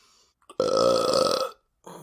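A single long, deep, resonant burp lasting about a second, loud and close, with a short vocal sound just before and a voice resuming right after.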